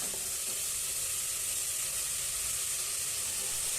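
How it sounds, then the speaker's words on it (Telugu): Vegetables frying in a pan for veg biryani give a steady, close, continuous sizzle with a bright hiss that holds evenly throughout, with no talking. "చూడండి ఇంత బాగా ఫ్రై అయ్యాయో"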